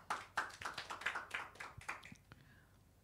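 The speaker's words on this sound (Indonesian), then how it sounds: "Tepuk tangan buat Yesus." Scattered hand claps from a church congregation during a Sunday worship service, a handful of separate sharp claps on a loose beat that thin out and fade, fairly quiet overall.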